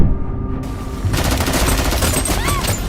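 Rapid automatic gunfire bursts in a film action scene with a sniper and a thrown grenade, loud and dense, with a steady rattling stream of shots and a brief quieter lead-in.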